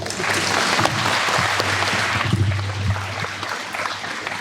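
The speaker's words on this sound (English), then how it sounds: "Give him some applause." An audience at the MG99 40th anniversary event gives sustained, fairly loud applause, many hands clapping together over a low steady hum in the room.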